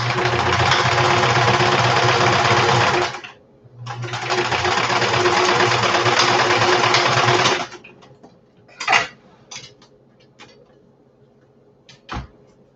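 Sewing machine stitching through felt runs in two long, loud, steady bursts separated by a short pause, followed by a few scattered clicks and clunks.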